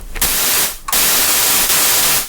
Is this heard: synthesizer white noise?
yes